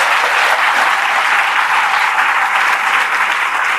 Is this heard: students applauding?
yes